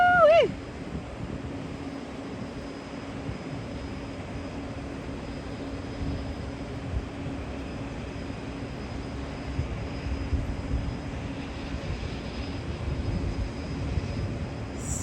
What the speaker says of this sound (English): That looks like a de Havilland otter that just landed at Victoria Harbour in Victoria, British Columbia, Canada.